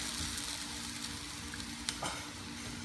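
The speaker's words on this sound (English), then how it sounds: "Give it a good stir" Pansit bihon stir-fries in a pan, giving a soft, steady sizzle at low volume. A couple of sharp utensil clicks and scrapes break through near the middle as the noodles are stirred.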